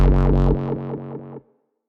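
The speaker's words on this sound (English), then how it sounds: "And there's an echo with its dry-wet being modulated." A Caspa-style dubstep bass made in Ableton Live pulses in about six wobbling, filtered hits, its echo modulated and low end trimmed by a high-pass sweep, ending in a brief fading tail.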